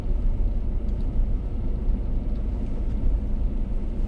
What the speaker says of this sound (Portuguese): Eu vou passar inclusive com cuidado aqui para o carro.